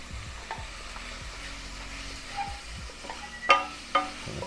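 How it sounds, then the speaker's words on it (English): Shredded carrots and other vegetables are stirred around in a pot, soft scraping and shuffling over a low background, ending in a couple of sharp utensil knocks against the pot. "Stir them around a little bit."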